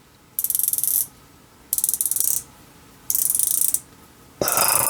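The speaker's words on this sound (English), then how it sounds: "The case is 316L stainless, 12-hour bezel, sounds great." A stainless steel 12-hour watch bezel on a quartz dive-style watch ratchets in four quick bursts of fine, crisp clicking, close and alone.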